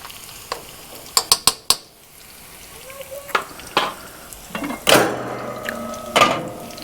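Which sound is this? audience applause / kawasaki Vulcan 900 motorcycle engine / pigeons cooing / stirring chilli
stirring chilli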